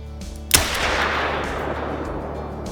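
A single sharp pistol shot from the 243R Cuomo in Call of Duty, one loud crack followed by a long fading echoing tail.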